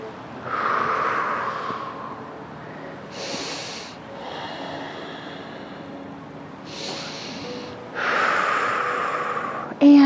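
Slow, audible breaths drawn in and pushed out during a gentle yoga warm-up flow, several soft airy inhales and exhales spaced a few seconds apart, close and fairly quiet in a calm room.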